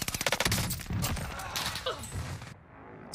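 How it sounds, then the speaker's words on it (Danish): Gunfire in the video game Call of Duty: Warzone, a rapid burst of automatic shots crackling at the start, then scattered further shots and game effects trailing off into quiet. "hvor bliver skudt fra?"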